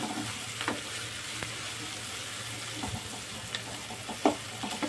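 Vegetables for vermicelli upma fry lightly in a pan, a low steady sizzle with occasional stirring scrapes and clinks of a spoon, close by and without talk.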